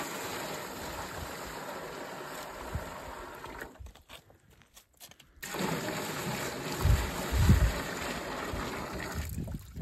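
Water splashes and trickles steadily into a trough, pausing briefly midway before resuming with heavier gushing bursts, close by and fairly loud.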